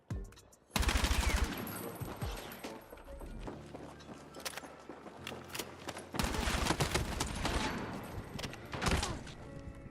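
Rapid automatic gunfire in Battlefield 6 battle royale, loud bursts of repeated shots in several volleys with short gaps, footsteps and gear clatter between them.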